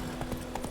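Horse hooves clip-clop in The Witcher 3, a few quick faint thuds in a brisk rhythm over a low game background.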